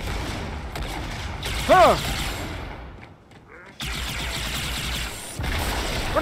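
Plasma rifle fire from Halo 2: Anniversary, a sustained stream of rapid energy-weapon shots under game noise, broken by a short gap and a brief exclamation from a voice.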